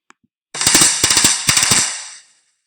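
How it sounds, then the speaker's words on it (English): A drum played loudly, struck in a fast, dense run of hard hits lasting under two seconds, close and booming, with a brief faint tap just before. "Do you hear her play the drum?"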